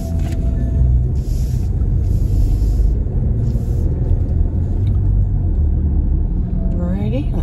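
A car drives through a Summerlin subdivision, heard from inside as a loud, steady low engine and road rumble that continues throughout, with a faint creak near the end.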